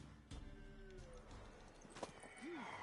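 A horse in the game The Witcher 3: Wild Hunt gives a short neigh near the end. Soft hoof clops and ambient game sound play beneath it.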